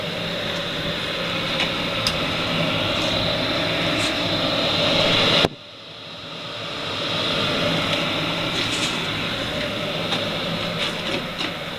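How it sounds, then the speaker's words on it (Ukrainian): The on-off fan of a long-burning boiler runs with a steady whooshing drone, cuts out abruptly, then ramps back up to a continuous hum, close by. "Вентилятор даного типу працює в режимі включення-виключення, тобто він е, досить досить тихо працює"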